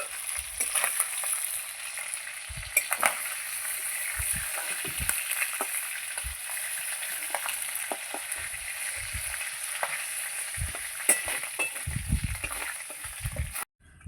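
Stingray (shankar fish) pieces frying steadily in hot oil, a continuous close sizzle with occasional louder crackles and spatters throughout, with no talking.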